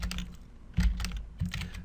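Keys pressed on a computer keyboard while working in an Excel spreadsheet, a short flurry of close clicks with two heavier thumps, likely the spacebar or enter key, no voices.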